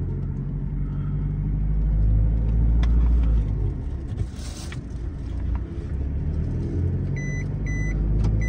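An Isuzu pickup truck with a 1.9 engine accelerates through its gears, its steady engine rumble and road noise continuous and loud from inside the cab.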